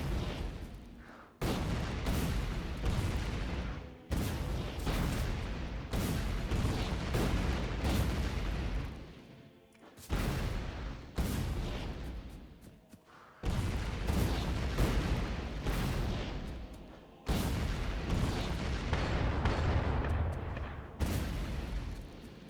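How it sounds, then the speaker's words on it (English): Powerful grenades from Factorio modded with Krastorio2 go off in a long run of heavy, loud booming blasts, each bursting abruptly then fading, separated by short gaps. "Powerful grenades are powerful."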